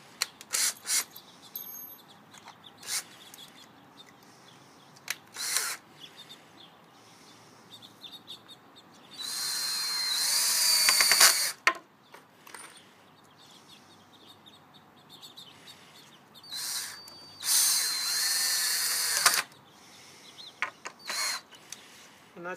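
Power drill outdoors driving 2.5-inch outdoor screws into wood for a raised potato planter, heard as several short whirring bursts and a few longer ones, with birds chirping in the background.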